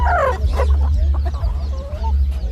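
Chickens and roosters clucking close by at a poultry and bird market in Adana, Turkey, a steady jumble of squawks and clucks over a low rumbling background.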